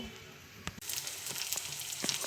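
Brinjal and tomato chutney fries in a pan, with a soft steady sizzle close by and a few sharp taps and stirring scrapes breaking through it, and nobody speaking.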